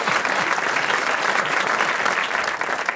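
Audience applause for Julien Lepers coming on stage at a French radio-TV talk show, a dense steady clatter of many hands clapping at full strength and continuing without a break.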